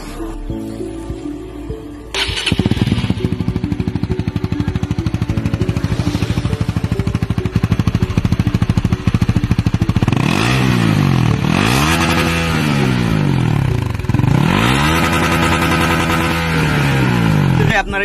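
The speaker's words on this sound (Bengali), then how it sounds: "আপনারা সাউন্ড শুনেন এক্সজস্টের।" A Honda CBR150R with a 150cc single-cylinder, four-valve engine idles loudly up close, then is revved in three rising and falling blips, its exhaust note crisp and throaty.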